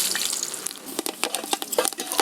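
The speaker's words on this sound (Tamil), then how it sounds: "இதில் வந்து பிரிஞ்சி இலை, பட்டை, கிராம்பு, மிளகு இது 4த்தையும் இந்த சூடான ஆயிலில் போட்டுடலாம்." Bay leaf, cinnamon, cloves and pepper crackling in hot oil over a village stove, a rapid irregular run of close, bright sizzling pops.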